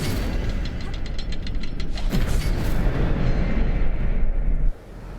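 Hogwarts Legacy incendiary spell: a fiery whooshing roar that swells and crackles for several seconds with creaking undertones, then cuts off abruptly into a quieter ambient hum.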